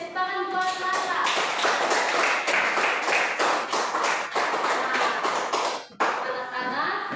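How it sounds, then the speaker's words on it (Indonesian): Children in a classroom clap together in a loud burst of applause, a dense patter of hand claps lasting several seconds, with young voices mixed in and a brief pause before the clapping resumes. "Tepuk tangan buat Nata."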